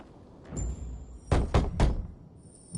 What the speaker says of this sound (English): Knock on some doors.